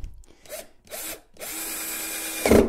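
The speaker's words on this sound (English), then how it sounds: "now all I have to do is screw it down, if I can find the screw gun and the screw right here" A screw gun drives a screw into a wooden table: a few short whirring bursts, then one sustained close buzzing run that ends with a louder clunk as the screw seats.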